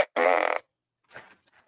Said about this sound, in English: Look, I have a fart gun.